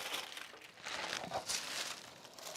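Sewing pattern paper is handled close by, giving faint, irregular crinkling and rustling in short bursts.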